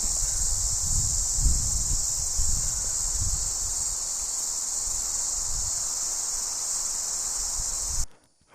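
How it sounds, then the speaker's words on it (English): Loud, steady high-pitched buzzing of insects at night in the wilderness drones without pause, with faint low rustling beneath, before cutting off abruptly at the end. "whatever insect is making that noise is going to really interfere with my audio."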